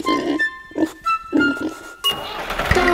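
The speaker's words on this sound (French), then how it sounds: "Y'a des centaines de cochons." Several short grunting oinks from farm pigs in a children's song, in bursts with brief gaps, then a busier, noisier stretch at the end.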